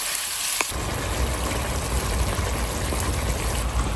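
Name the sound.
vegetables sautéing in a pan with fish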